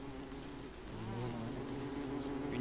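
Bees buzz steadily in the Don't Starve video game, a continuous close insect drone with wavering pitch that swells slightly midway and holds to the end.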